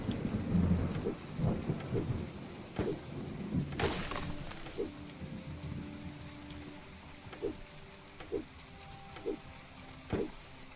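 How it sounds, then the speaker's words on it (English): Rain and thunder in the video game My Time At Portia: a steady patter of rainfall with a sharp thunderclap early on and a string of distant rumbles and rolls, with no voices. "I do love the effect of the rain, though"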